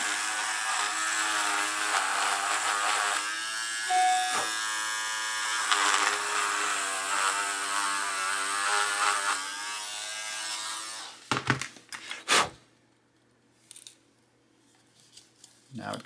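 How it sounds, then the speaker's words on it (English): A small Dremel rotary tool with a 1 millimeter drill bit whines steadily for about ten seconds as it bores through leather for sheath stitching, a continuous buzzing tone that cuts off, followed by a few sharp handling knocks. "we take our little Dremel with a 1 millimeter"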